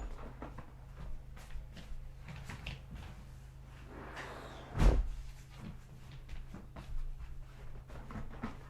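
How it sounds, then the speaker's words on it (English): A door being closed indoors, with shuffling and handling sounds leading to one firm thump near the middle, then quieter movement afterward, close and moderately loud. "I'm going to close the door because somebody started their lawnmower outside."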